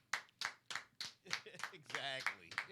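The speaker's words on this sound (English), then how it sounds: "I need a round of applause" A handful of separate hand claps ring out with a short voice mixed in, loose and uneven rather than a crowd's applause, quiet and close in a podcast setting.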